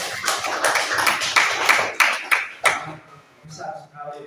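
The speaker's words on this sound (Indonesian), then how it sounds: "Oke, tepuk tangan." A classroom audience claps hands during a geography presentation, a run of sharp separate claps with a few louder strikes, then trailing off into quieter room sound.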